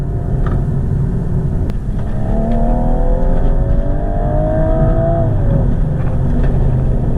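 A BMW F21 M135i accelerates hard from inside the cabin, its engine note climbing steadily through a short-shifted gear, then easing off as the revs drop, loud and continuous with no talking.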